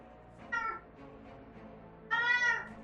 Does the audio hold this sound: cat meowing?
yes